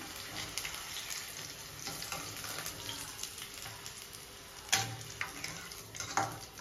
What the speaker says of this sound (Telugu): కరివేపాకు ఫ్రై చేద్దాము అండి